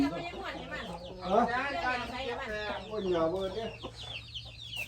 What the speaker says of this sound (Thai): ไก่ตี